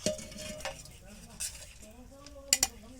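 Fried biscuits made from peanut, semolina and flour being lifted from hot oil with a metal utensil, giving a few sharp clinks and scrapes against the pan over a faint sizzle, with a brief muffled voice nearby.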